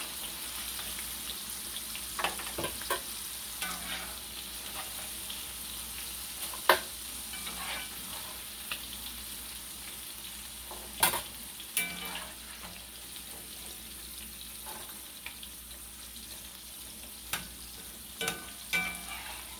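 French fries sizzling in hot oil in a pan, a steady hiss of frying with scattered clinks and scrapes of a utensil lifting them out, close by and without speech.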